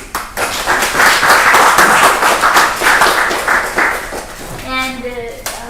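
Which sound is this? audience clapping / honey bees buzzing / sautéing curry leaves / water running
audience clapping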